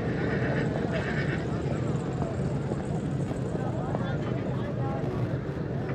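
A mare neighs amid the steady clatter of hooves and crowd murmur at a busy horse market in Dera Ghazi Khan, a dense, continuous din with people talking throughout.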